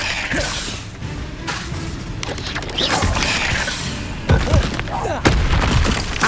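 Spell-casting bursts from the fire spell Incendio in the video game Hogwarts Legacy, several sharp whooshing blasts at irregular intervals over a steady mechanical game background.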